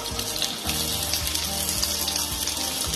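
A large onion sizzles in hot oil with cumin seeds for a Bengali-style aloo bhaji, giving a steady, close, bright hiss with scattered crackles and no talking.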